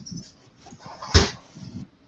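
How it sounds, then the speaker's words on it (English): Dogs in a home make short whimpering yips and small noises, with one sharp louder bark or thump midway, fairly close under a quiet background. "Sorry, my dogs."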